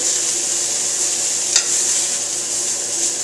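Tenderloin filet searing in a hot pan over an adjusted flame, a steady broadband sizzle holding even throughout with one brief louder crackle near the middle, close and without talk.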